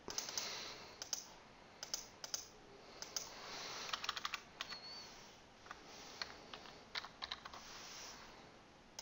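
Typing a file name on a computer keyboard, a quiet, close series of uneven key clicks in bursts and scattered single taps, no speech.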